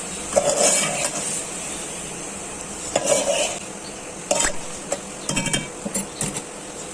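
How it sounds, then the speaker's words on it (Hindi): Spices being stirred into beef in a cooking pot, with a utensil scraping and clinking against the pot in short bursts over a faint sizzle, close and moderately loud with no talking. "अब हम इसमें तमाम मसाले डाल देंगे। और इसे मिक्स कर लेंगे।"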